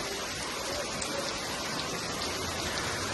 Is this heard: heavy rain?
yes